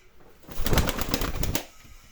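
Pigeons flutter and shuffle close by, with a burst of rapid wing flapping and soft cooing amid rustling movement.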